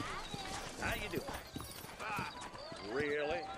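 Horse hooves clip-clopping in the video game Red Dead Redemption, steady close hoofbeats with a horse snorting and whinnying, under a voice.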